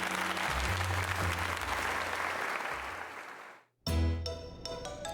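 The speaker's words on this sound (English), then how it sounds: "let us give another heartfelt round of applause to Lolian." A crowd applauds loudly and continuously for several seconds in the game Pokemon Legends: Z-A, cuts out briefly, then bursts back in with sharp, crisp clapping.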